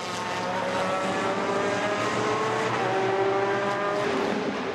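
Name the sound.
race cars braking and overtaking at Zolder circuit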